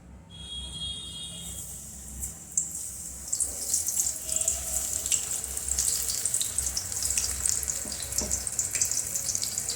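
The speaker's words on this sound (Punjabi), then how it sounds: "ਤੇਲ ਦੇ ਵਿੱਚ ਆਪਾਂ ਹੁਣ ਪਕੌੜਿਆਂ ਨੂੰ ਪਾ ਦਵਾਂਗੇ" Spinach pakora batter drops into hot oil in a kadhai and fries. The sound is quiet at first, then a dense crackling sizzle builds up and carries on steadily and close by, with no talking.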